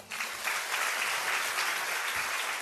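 A crowd breaks into applause after a lecture point, a thick, continuous patter of many hands that starts abruptly and holds at steady, fairly loud volume with no speech over it.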